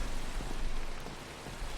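Steady rain pours in Minecraft, a dense even hiss at moderate level with faint low rumbles beneath and no voices.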